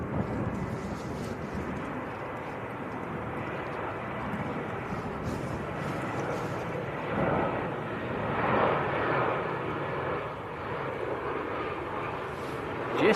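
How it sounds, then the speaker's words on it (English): An Aer Lingus airliner from Dublin landing at Manchester Airport makes a steady, broad jet rumble that swells slightly midway and holds at moderate distance, with no clear talk. "We'll catch the Aer Lingus, which is on very short finals"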